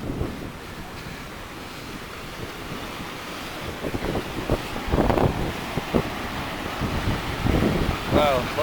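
Rushing water flows loudly beneath a bridge in a valley, a steady roar mixed with gusty wind noise on the microphone, while a voice speaks briefly over it.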